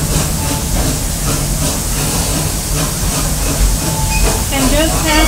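A park train ride at Busch Gardens Tampa rolls past a station in a steady, dense rumble and hiss of rail noise, loud and continuous, with faint tonal squeals near the end.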